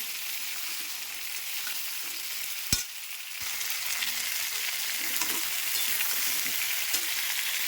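Steady frying sizzle as pointed gourd and shrimp cook in a pan, with a sharp metallic clack from a spatula partway through and light scraping as the food is stirred.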